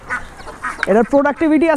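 Farm ducks quack in a short run of loud, harmonic calls as they are fed rice, following some earlier quieter sounds.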